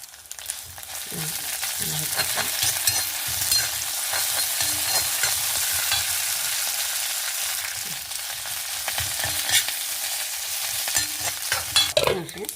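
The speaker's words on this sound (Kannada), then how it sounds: "ಸಾಸಿವೆ ತಾಯ್ತು ನೋಡಿ ನಮ್ಮ ಮೆಣಸು ಹುರಿದಾಗೆ" Mustard seeds and chillies fry and crackle in hot oil for carrot chutney, a steady sizzle running throughout with frequent scraping stirs and small pops, close and fairly loud, with no talking.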